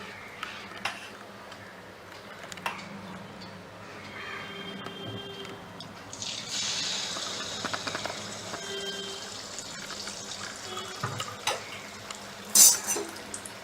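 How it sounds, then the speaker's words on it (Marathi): Sweet Shravan dumplings fry gently in oil over a low-to-medium gas flame, a soft, steady bubbling with occasional light utensil clinks, close by and quiet, with no voices. "हे मंद गॅसवर तळायचं आहे ना मिडियम करूया थोडा"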